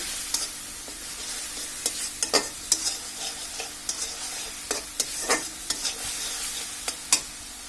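Ginger-garlic paste and coriander powder masala frying in a pan for a Bengali lentil dish, a steady close sizzle broken by frequent sharp scraping clicks of a spatula stirring, with no talking.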